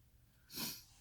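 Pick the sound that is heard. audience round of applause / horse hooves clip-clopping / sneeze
sneeze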